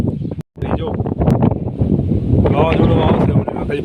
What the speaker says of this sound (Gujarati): વાવાઝોડું આવશે હમણાં, ખાલી પવન જોઈ લો.